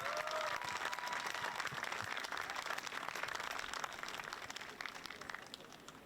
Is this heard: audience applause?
yes